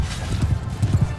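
Horse hooves clip-clopping in the video game Mount & Blade II Bannerlord, a steady, low rhythmic thudding of a slow-moving mount, close and moderately loud with no talking.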